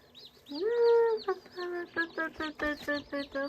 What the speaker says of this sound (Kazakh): Қандай сүйкімді балапандар